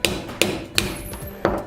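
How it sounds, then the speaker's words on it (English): A hammer whacks the top of pliers to cut through a nail, four sharp metallic strikes in an uneven rhythm, close and loud with short ringing decay and no talk. "if I line them up into it, then whack the top of it with a hammer"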